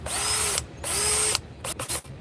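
Cordless power drill whirring in two sustained bursts, each ending abruptly as the clutch engages, followed by a few short rattling mechanical clicks; close and loud with no talk.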